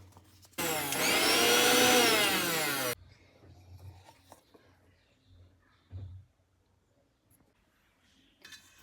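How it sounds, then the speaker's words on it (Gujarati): An electric mixer grinder whirs loudly for about two seconds, blending garlic, ginger and green chilies into a paste in a home kitchen, then stops, leaving faint clinks and quiet kitchen handling. "લસણ, આદુ ને મરચા બધી જ વસ્તુને મિક્સરમાં પેસ્ટ બનાવી લેશું."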